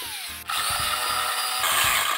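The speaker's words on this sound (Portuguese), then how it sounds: "na hora de cortar com a tico-tico" Jigsaw sawing through layers of a rubber tire braced on a wooden support, a loud close buzzing motor with rapid chattering blade strokes, running steadily with no speech.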